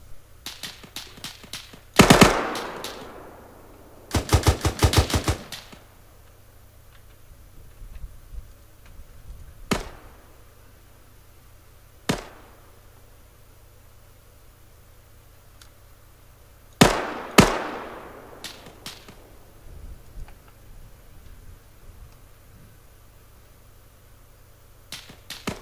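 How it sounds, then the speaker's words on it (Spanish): Gunfire in the Arma 3 combat game during a training assault around a building: scattered bursts and single sharp shots, a loud cluster near the start and another later, separated by quieter gaps with isolated distant cracks. "Están disparando a mi posición."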